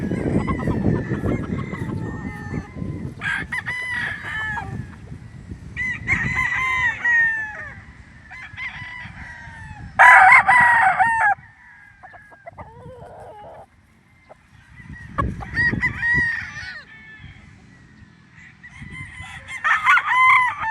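Roosters crow repeatedly and loudly on a chicken farm in San Pablo, Laguna, with chickens clucking in between and a few short, strong crows standing out near the end.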